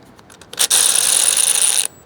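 A ratchet with an 8mm socket tightens a brake line bolt while fitting an ABS brake line kit on a Triumph Bonneville T100/T120 motorcycle: a few light clicks, then a close, steady, rapid ratcheting buzz lasting just over a second, with nothing else heard.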